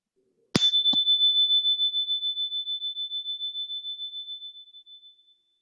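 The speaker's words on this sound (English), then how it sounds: "Each time I sound the chime, let that goodness resonate loud and clear from the inside out." A meditation chime is struck once, giving a bright, clear ring that sustains and slowly decays over several seconds in an otherwise quiet space.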